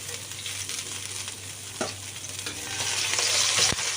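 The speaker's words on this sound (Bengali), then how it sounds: "সব কটা মাছই আমি সুন্দর করে একটু ভেজে নেব" Khoira sea fish frying in a pan for a potato and taro jhol, a steady close sizzle with crackling spurts and a few louder pops, swelling slightly toward the end, with no talking.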